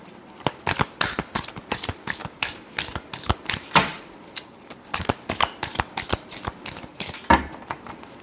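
Tarot cards are shuffled close by in rapid, rhythmic riffles, with crisp papery flutters and snaps repeating steadily throughout.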